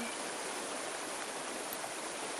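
A mountain river flows in a steady, dense rush of water, constant and fairly close, with no voices or other sounds breaking through.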